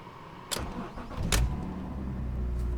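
A car engine cranks and catches with a sharp burst, then settles into a steady mid-pitched idle, close and fairly loud, with no talking over it.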